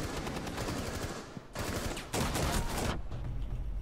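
Rapid automatic gunfire in Rainbow Six Siege, dense loud bursts of shots with brief gaps between volleys, close and continuous with no talking.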